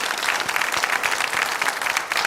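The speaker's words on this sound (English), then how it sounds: "So a round of applause for Vicky as well." A game-show studio audience applauds a contestant with steady, dense clapping throughout, moderately loud and even, with no voices over it.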